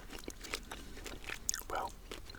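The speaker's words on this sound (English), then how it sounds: "you heard the initial crunch as I chewed into the piece of gum" Close, quiet bites and crunches of PK chewing gum, with a sharp snap near the middle followed by soft mouthy chewing sounds.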